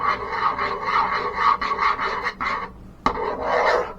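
Icing being stirred in a pot just after the direct heat is turned off, giving a steady rasping, scraping rub of a spoon against the pot in repeated strokes, close and fairly loud, with a brief pause and a sharp knock before stirring resumes.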